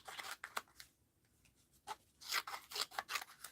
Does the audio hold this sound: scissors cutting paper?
yes